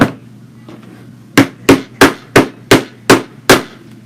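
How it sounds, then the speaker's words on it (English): Seven sharp hammer strikes in a steady rhythm, loud and close, after a few faint taps over a low background hum. "Using my lovely hammer from Miss Johnny."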